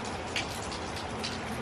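Steady rain falls outside, a dense even hiss of drops with a few louder close splashes, continuous and moderately loud with no voices.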